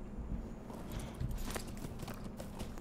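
Horse hooves clip-clop steadily while riding in the video game Lord of the Rings Online, a continuous close trotting rhythm with no talk over it.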